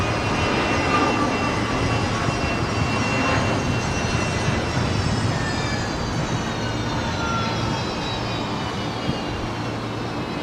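A Jetstar narrow-body jet airliner bound for Denpasar at Brisbane Airport, its engines giving a steady broad roar with faint whining tones that slowly slide downward, moderately distant and continuous, with no talking.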